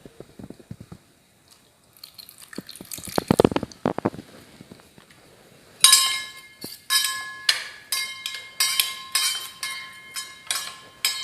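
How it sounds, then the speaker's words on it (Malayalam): A spoon stirs cornflour and water in a glass for beetroot halwa. Quiet scraping gives way to a run of sharp, rhythmic clinks against the glass, close and clear. "ഇതിലേക്ക് കുറച്ച് വെള്ളം ഒഴിച്ച് കലക്കി വെക്കണം"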